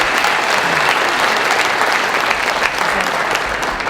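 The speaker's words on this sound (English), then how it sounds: "Let's give them a round of applause." Steady, dense applause from an audience at a Pride brunch event, loud and close, sustained without a break and with no talk over it.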